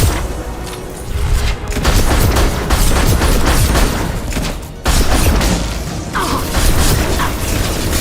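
Gunfire from the Mass Effect video game comes as loud, dense bursts of rapid shots and mechanical clatter, with short pauses between volleys.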